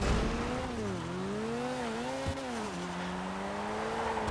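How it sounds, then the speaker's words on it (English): A car drifting around corners in GTA 5, its tires squealing in a long sustained wail that wavers in pitch over a steady engine drone, loud and close with no talk. "I'm just merrily drifting my way around the corners"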